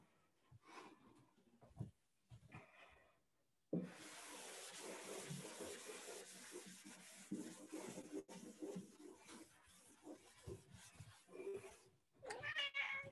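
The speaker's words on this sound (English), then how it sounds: "Oh, I told you the cat would come near the end. He's ready for his dinner." A hungry cat meows and caterwauls close by for its dinner. The meows come in several uneven bursts mixed with rubbing and scuffing noises, quiet overall, with no talk.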